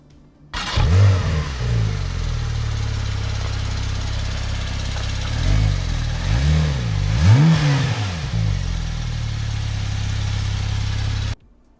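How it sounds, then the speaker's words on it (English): A powerful Porsche 911 Turbo S (2024, 560 horsepower) engine cranks to life with a loud roar, settles into a deep rumbling idle, then revs up sharply two or three times before cutting off. "how the Porsche Turbo S 560 horsepower engine really roars as you start it on"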